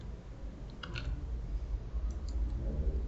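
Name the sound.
mouse clicking on Install in RStudio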